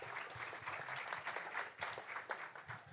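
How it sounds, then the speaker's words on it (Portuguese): Audience members at a panel event on Black organisations applaud a guest speaker, the sustained clapping sounding faint and distant throughout. "Uma salva de palmas para o Márcio, por favor."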